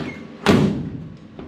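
A door on an International Scout II under rust repair is worked once, giving a single loud thud with a short metallic rattle, followed by a faint knock about a second later.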